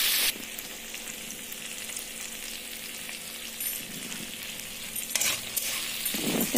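Okra fries in a pan with turmeric and salt over a medium flame, a continuous, fairly close sizzle with a few faint clinks and stirring scrapes near the end.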